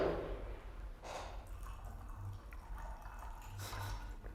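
Drink, mostly water, poured heavily from a small bottle, giving a soft, close liquid splash and trickle that rises and falls over a few seconds in a quiet room without talk.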